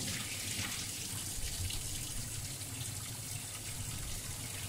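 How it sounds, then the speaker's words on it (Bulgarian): Cold tap water gushes steadily over boiled macaroni draining in a sink, a constant close splashing rush with no voices. "След като макароните са сварени, пускаме студената вода и изцеждаме"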